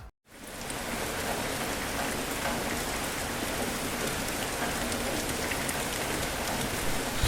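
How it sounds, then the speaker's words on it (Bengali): Rain in a cartoon village at night begins after a brief moment of silence, then pours as a dense, steady hiss of falling drops that stays loud and even throughout. "সে বৃষ্টির কথা বলতে না বলতেই বৃষ্টি শুরু হলো"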